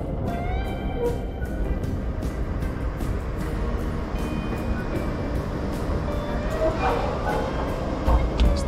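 Athens metro train ride heard from inside the carriage: a steady low rumble and rolling rail noise persists throughout, with faint squeals and clicks, under a busy, moderately loud interior ambience.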